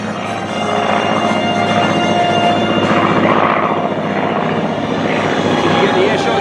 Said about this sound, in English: There it is, the simulated carrier landing there for the Skyraider.